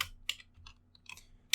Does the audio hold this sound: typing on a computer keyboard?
yes